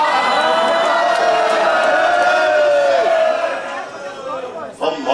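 An audience boos loudly at a Hong Kong chief executive candidates forum, a sustained crowd drone of jeering voices that holds steady, then thins out toward the end.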